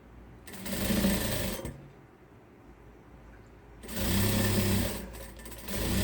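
A sewing machine stitching a plush capybara toy, running in two loud, steady whirring bursts separated by a quiet pause, close by with no talking.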